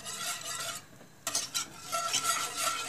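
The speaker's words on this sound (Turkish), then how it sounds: "Kaynayıncaya kadar güzelce karıştırıyoruz." A spoon stirs strawberry pudding mix with milk in a pot, making soft scraping and swishing strokes with faint clinks against the metal, close by, with a short pause partway through.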